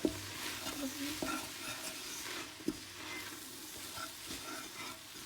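Chilli ingredients are stirred in a pan before mince goes in, a soft, steady sizzle with scraping spoon strokes and a couple of sharp knocks against the pan, nobody talking.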